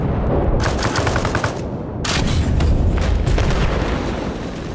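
Rapid automatic cannon fire from a BMP-6 infantry fighting vehicle in the military video game Arma Reforger, loud continuous bursts rattling with a short lull near the middle, no talk.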